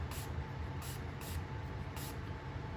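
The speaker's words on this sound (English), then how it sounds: "I'm just gonna spray a little bit in there just because that's so dirty" Aerosol cleaner sprayed into the action of a very dirty Glock pistol, four short hissing bursts repeating at a steady pace over a low, constant background rumble.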